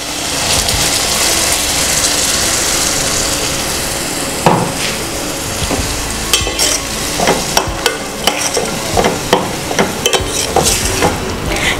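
Ground masala paste goes into onions frying for a Goan fish curry: a continuous sizzle, then a burst as the paste lands, followed by a run of sharp spoon clacks and scrapes against the pot.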